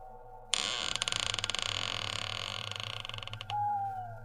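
A door creaks open in a long, rasping, stuttering groan, ending with a brief higher squeal, heard fairly quiet over a low steady hum in an office.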